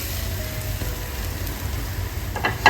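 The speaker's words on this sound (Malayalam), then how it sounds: "എന്നിട്ട് ഈ നെയ്യിലൊന്ന് നന്നായിട്ടൊന്ന് വഴച്ചെടുക്കും" Banana pieces fry in ghee in a pan, a soft, steady sizzle close by, ending in a few louder spoon scrapes and taps, with no talking.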